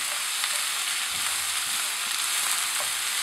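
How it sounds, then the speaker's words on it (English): Butter melting and sizzling in a pan with mushrooms, a steady close hiss of frying with faint soft crackles and no talking. "Just let the butter melt in."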